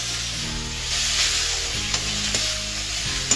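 A spiced poha mixture of flattened rice is stirred in a hot pan, giving a loud close sizzle with scraping strokes and a low steady hum underneath.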